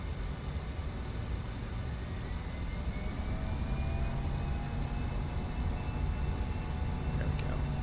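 A Fokker 100 airliner in Microsoft Flight Simulator 2024 accelerates on the runway, a steady broadband engine roar with rising whine tones that holds at constant loudness throughout, with no talking.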